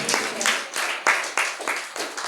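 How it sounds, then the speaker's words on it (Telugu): A church congregation claps their hands together in a steady rhythm, about eight crisp, close claps in quick succession. "చప్పట్లు కొట్టండి"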